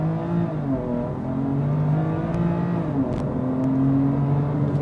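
A BMW M2 Competition sports car accelerates hard from 0 to 100 km/h, its engine roaring loud and steady from inside the car, the pitch climbing and dropping back as it shifts through gears.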